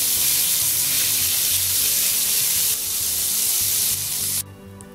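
Cumin seeds brown in hot oil on medium heat, giving a loud, continuous close-up sizzle that drops noticeably quieter near the end.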